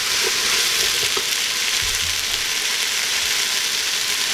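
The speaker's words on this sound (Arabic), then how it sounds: "زيت الزيتون والخضر ديالي، وكنحاول نخلطهم مزيان بحال هكا" Vegetables sizzle steadily in hot olive oil in a pan, a constant bright frying hiss with a few soft clinks and scrapes of stirring, close and continuous.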